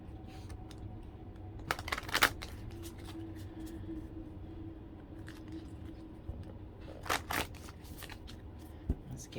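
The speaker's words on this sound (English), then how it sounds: "Give these a good old shuffle." Cards from the Archangel Fire Oracle deck riffled and shuffled in two quick bursts, a soft papery flutter near the start and another later, over a quiet room.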